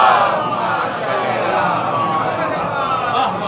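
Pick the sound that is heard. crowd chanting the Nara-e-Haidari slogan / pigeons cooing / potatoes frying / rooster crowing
crowd chanting the Nara-e-Haidari slogan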